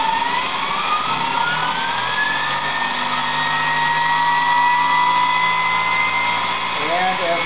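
A Kaylor Kit electric motor is pushed to full throttle, its steady whine climbing gradually in pitch and staying loud and close for the full stretch, with a brief warble near the end.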